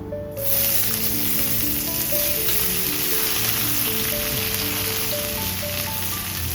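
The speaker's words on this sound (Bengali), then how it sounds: "ফোড়নগুলো সব ভাজা হয়ে গেছে কেটে রাখা পেঁয়াজ আর টমেটো দিয়ে দেবো" Chopped onion and tomato hitting hot mustard oil already holding dried red chilli, bay leaf and five-spice, bursting into a loud, dense, continuous sizzle heard close up with no voices.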